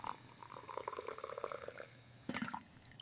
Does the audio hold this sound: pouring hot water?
yes